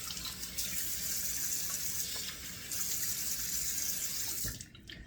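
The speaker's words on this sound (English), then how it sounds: "So let me turn on cold water here" Cold water runs steadily from a bathroom sink tap during a wet shave, a continuous close splashing hiss that stops abruptly near the end.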